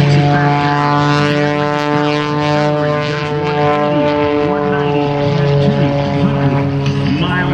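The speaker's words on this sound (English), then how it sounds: "Throwing the airplane through the sky." A propeller aerobatic airplane at an airshow roars loudly and continuously overhead, its engine droning steadily with rising and falling pitch as it maneuvers close by.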